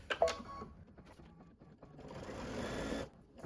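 A sewing machine stitches fabric along a marked line while a quilt block is pieced, a short tap near the start followed by a steady, close whirring run of about a second before it stops.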